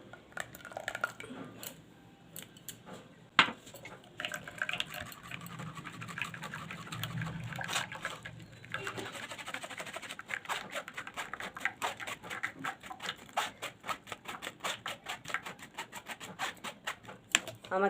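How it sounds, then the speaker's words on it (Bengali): Raw mango and mint paste being pushed through a strainer, a string of soft wet pats, squishes and light scrapes with short irregular gaps, close and quiet, with one sharp tap partway through and no talk. "এবার আমি ছেঁকে নেব"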